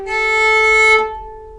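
Two bowed violin notes, G then A, from a song tutorial, played smoothly in one stroke and ending in a short ringing decay, close and moderately loud with no voices.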